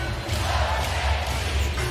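A basketball arena crowd applauds and roars steadily during an NBA playoff game between the Oklahoma City Thunder and Minnesota Timberwolves. The broad, continuous wash of noise fills the space with no distinct voices on top.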